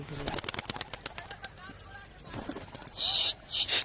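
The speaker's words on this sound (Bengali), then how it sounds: "তাদের সাথে উড়ে গেছে আমার কবুতর দুটো" Pigeons lift off in a quick burst of close, rapid wingbeat flutters, and a brief noisy flurry follows a few seconds later.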